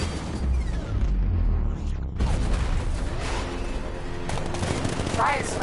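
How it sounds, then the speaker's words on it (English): Cannon gunfire in a Batman video game, loud rapid bursts of shots and booms over tense game noise, with voices calling out over the fire. ".60mm cannon operational."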